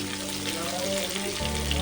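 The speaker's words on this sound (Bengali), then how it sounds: "এর মধ্যে আমি এখন পেঁয়াজ কুচি দিয়ে দিচ্ছি।" Chopped onion dropped into hot oil with cinnamon, cloves, mace and whole cumin, a close, steady sizzle that swells briefly near the end.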